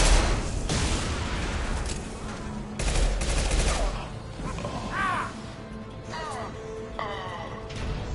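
Weapon fire in a space video game, an impact shot: bursts of rapid gunfire and blasts, followed by sweeping electronic chirps, with talking in the background.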